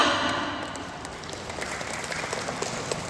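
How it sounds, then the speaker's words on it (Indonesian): An audience at a university expo in Toraja applauds the organizing committee with a dense, continuous wash of clapping from a crowd that holds steady throughout, with no speech over it. "Tepuk tangan untuk panitia."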